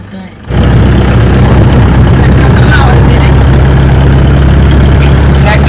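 A vehicle engine idles loudly and steadily on a safari drive in the Mudumalai wildlife area of the Nilgiris, a low continuous rumble that starts abruptly after a brief quiet moment and holds throughout.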